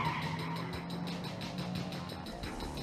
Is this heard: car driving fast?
yes